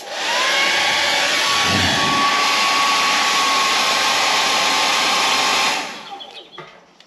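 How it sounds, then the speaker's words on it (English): A hairdryer runs steadily at close range with a constant loud whoosh and a faint whine, then switches off and winds down after about six seconds. It is being used while applying a POR 15 tank sealer kit. "I might have to get the hairdryer out for this"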